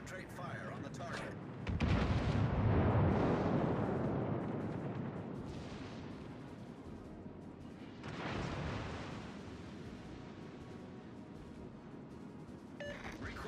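Naval artillery fire in World of Warships: Legends, two heavy booming salvos with long rumbling tails, the first larger, over a steady battle ambience.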